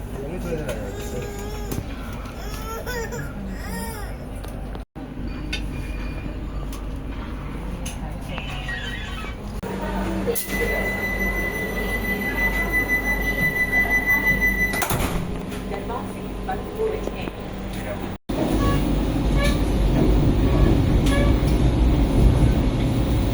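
Madurai–Bangalore Vande Bharat Express train pulling away, with a steady rumble that builds and a sustained horn-like tone in the middle, heard from inside under ongoing talk.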